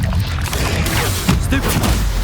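Spell-casting effects from Hogwarts Legacy combat, with a loud, dense run of booming magical blasts and crackling impacts overlapping one another across the whole stretch.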